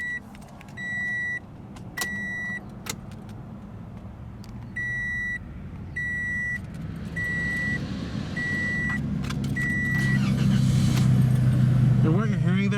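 A 2017 Toyota Corolla LE with a 1.8 L inline four-cylinder: the cabin chime beeps in a regular rhythm, then the engine cranks and settles into a low, even idle over the last few seconds.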